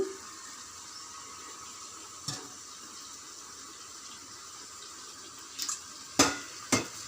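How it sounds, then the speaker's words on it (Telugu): Water trickles into a metal plate lid set over a pan of ivy gourd curry, a soft continuous pour ending in a few sharp metallic clinks of the lid and vessel. "ఒక ప్లేట్ మూత పెట్టి అందులో వాటర్ పోయాలి"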